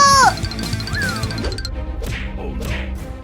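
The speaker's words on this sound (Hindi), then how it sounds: "कैट्स की आवाज आ रही है, लगता है वो किसी मुसीबत में है" Cats meow in short, strained cries amid crashing, banging sounds and busy music in a cartoon, loud and close.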